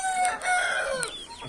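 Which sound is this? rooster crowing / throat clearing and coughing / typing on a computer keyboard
rooster crowing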